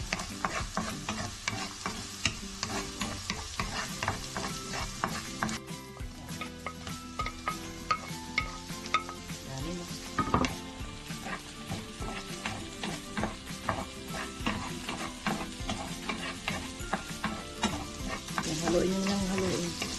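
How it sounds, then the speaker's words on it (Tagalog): Garlic and onion fry in a pan, a continuous sizzle under frequent scraping and clinking stirring strokes, close and steady with no talk. "Pag medyo magba-brown na itong bawang, pwede nyo nagsunod yung onion."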